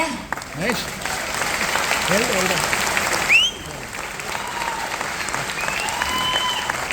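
Sustained applause from an audience at a stage event, steady and fairly loud, with a few whistles and voices rising over the clapping.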